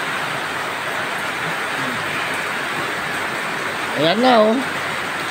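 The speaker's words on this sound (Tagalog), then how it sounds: "Yan, malakas na ulan." Heavy rain falls as a steady, dense wash of hiss throughout. A voice briefly speaks over it near the end.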